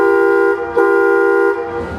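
Two bright, reedy horn toots from a small amusement park train at Six Flags Magic Mountain. The first is longer, the second shorter, both loud and close.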